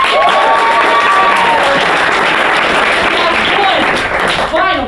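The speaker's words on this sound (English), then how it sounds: "Give yourselves a round of applause" A comedy show audience bursts into loud, close applause and cheering, dense clapping mixed with whoops and shouts that sustains throughout, with a few voices rising above the crowd near the end.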